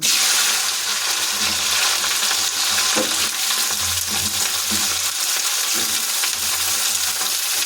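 Cauliflower pieces sizzle steadily in hot oil in a wok, stirred with a spatula that scrapes and clacks at intervals, close and alone.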